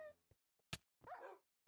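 Dogs in a survival video game giving a few short, faint yelps and a whimpering bark among quiet game sounds, with a sharp hit noise in between.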